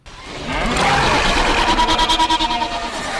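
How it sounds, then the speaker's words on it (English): A loud, snarling monster roar that swells quickly, then breaks into a rapid pulsing growl before cutting off. "sounding its very own war cry made from a combination of its contributors' vocal"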